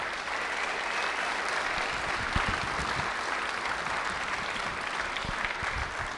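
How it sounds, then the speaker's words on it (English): Audience at an Ontario Chaffey show band performance on Magnolia Street claps in a steady, dense wash that stays fairly soft and distant throughout, with no voices on top. "Give Bob Weiss and his beautiful wife a nice round of applause."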